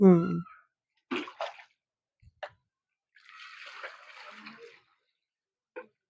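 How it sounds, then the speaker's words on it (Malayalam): Water is poured into a plant pot holding a lotus, giving a soft, splashing gush that lasts about a second and a half mid-clip. Brief voice sounds and a few clicks come before and after it. "ഇങ്ങനെ വെച്ചിട്ട് ഇതിലേക്ക് വെള്ളം ഒഴിക്കുക"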